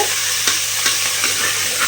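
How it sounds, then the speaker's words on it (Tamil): Ginger garlic paste sizzles and fries in a hot pan with a steady hiss, broken by soft scraping stirs every half second or so. "நல்லா இஞ்சி பூண்டு பேஸ்ட்டு பச்சை வாடை போகிற வரையிலும் வதக்கிடுங்க"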